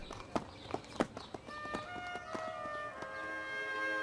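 A horse's hooves clip-clop in a steady walking rhythm, sharp distinct strikes close by, with a faint voice and a tonal hum rising toward the end.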